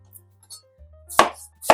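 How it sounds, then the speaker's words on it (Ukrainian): A knife chops an apple into fairly large pieces on a board while chicken liver pâté with vegetables is prepared; two sharp, close chopping strikes land near the end over a low background hum. "Яблуко теж нарізаю на шматки, тільки вже трішки більше шматки."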